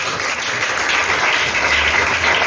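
A church congregation claps, a steady, full applause that fills the room from start to finish with no voices over it.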